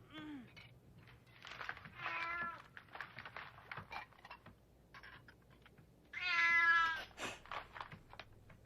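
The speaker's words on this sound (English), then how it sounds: "What? A cat?" A cat meows several times in short, separate calls, ending with one longer, louder meow, heard fairly close against a quiet background with light tapping clicks.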